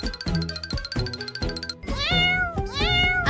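A mother cat with kittens lets out a quick run of short, close meows, then several longer, rising and falling drawn-out mews, with no one talking.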